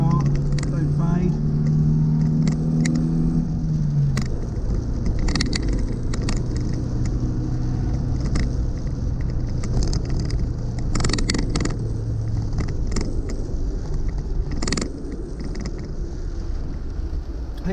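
Inside a Suzuki Jimny on the road, a constant low engine and road drone fills the cabin, with a falling engine note early on and scattered light clicks and knocks while someone talks over it.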